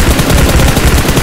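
Rapid video game gunfire, a loud continuous burst of automatic shots in quick even rhythm, close and dominant.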